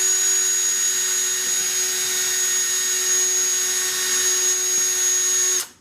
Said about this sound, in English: And now we're just going to drill through the back here.